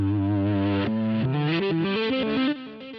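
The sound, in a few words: Eventide Rose delay pedal backwards effect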